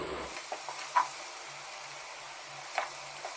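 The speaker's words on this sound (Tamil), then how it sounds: "இப்போ 4 பச்சை மிளகாய், இது 2ஐயும் சேர்த்து நல்லா ஆயிலில் வதக்கிக்குவோம்." Green chillies sizzle quietly in hot oil, a soft steady crackle with a few sharper spits and stirring scrapes, no voices.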